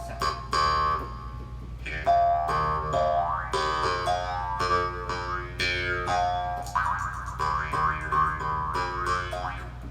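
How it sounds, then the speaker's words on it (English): Jew's harp voice on a Yamaha PSR-S950 arranger keyboard, played as a run of twangy, boinging notes with buzzy resonant overtones, fairly loud and continuous with no talking. "A Jew's harp."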